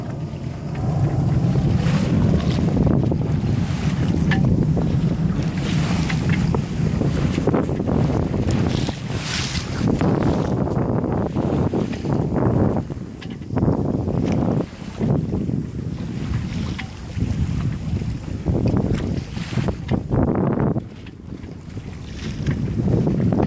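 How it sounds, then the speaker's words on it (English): A sailboat under sail without its motor, with steady wind buffeting the microphone and water rushing along the hull, continuous and close for the whole stretch, no talking. "I think I could actually sail out there without motoring."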